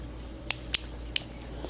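Small scissors on a Leatherman Wave multi-tool snip three times in quick, uneven succession, each a crisp, close metallic click over a quiet background.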